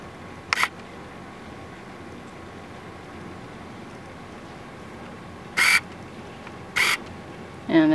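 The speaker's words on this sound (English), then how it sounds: "The autofocus makes noise when you use it." A new camera's autofocus motor whirs in a few brief, sharp bursts, one early and two near the end, against a quiet, steady background with no talking.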